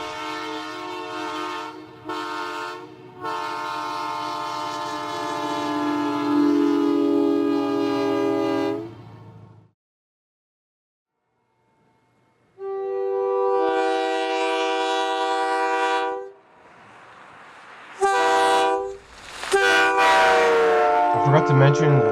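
Nathan K3L or M3H air horns on GMD-1 locomotives of the Northern Alberta Railways blast loud, sustained chords in several long and short soundings, separated by a brief silence, with clear harmonic tones and some distant rumble.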